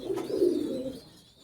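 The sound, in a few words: imported high flyer pigeons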